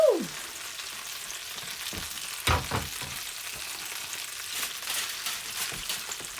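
Turkey drumsticks sizzle steadily in a frying pan while being stirred, with a constant hiss broken by a few sharp scraping knocks near the start and middle, close and alone.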